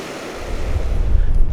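Surf on Gold Beach on the English Channel rolls in as a brief, broad wash of waves and wind, building slightly in loudness and mixed with gusty rumble against the microphone.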